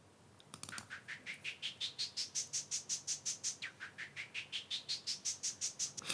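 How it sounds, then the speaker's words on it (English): A rhythmic white-noise synth pulse from an ES1 synthesizer repeating steadily, each burst sweeping upward in pitch, bright and chirpy with a noisy edge, playing alone. "It's kind of like a white noise rhythmic thing."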